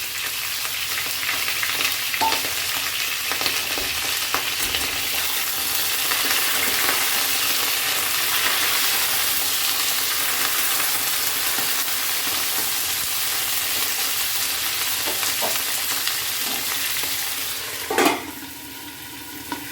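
Beans fry in a pan, a continuous loud sizzle with occasional stirring scrapes and a sharper clatter near the end, no voices.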